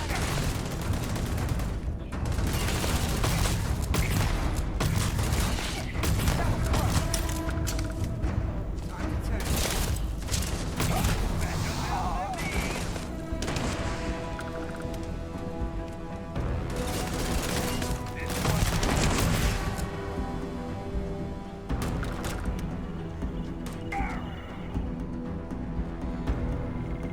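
Rapid gunfire from the space game Starfield rattles in dense bursts over a constant combat din, with shouted voices breaking in now and then throughout the long firefight.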